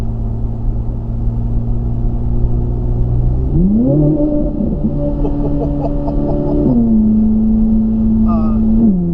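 Corvette C8 Z06 with a Soler Performance throttle controller in its most aggressive mode, its engine droning steadily then surging upward in pitch under hard acceleration, holding a loud strained tone before settling, heard close from inside the car.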